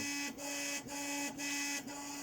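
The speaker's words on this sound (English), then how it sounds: "my printer's making a lot of noise right now" A 3D printer runs nearby with a steady, whining mechanical tone, broken by brief regular dips about every half second. No one speaks.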